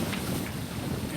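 Squall wind buffeting a racing sailboat at sea, a loud, steady broadband roar of gusting air and wind noise on the microphone, with no voices.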